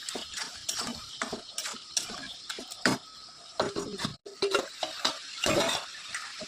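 Spices being stirred and mixed in a cooking pan for a thin country-chicken curry, with repeated scraping and clinking of a spoon against metal in irregular bursts, fairly close and with no talking.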